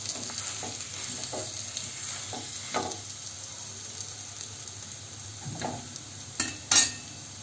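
Aloo paratha fries on a pan with a soft, steady sizzle, broken by a few scraping stirs and a couple of louder clatters near the end, close up with no talking.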